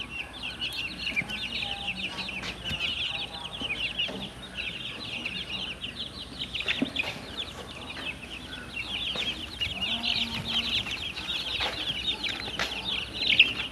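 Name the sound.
baby chicks peeping in a brooder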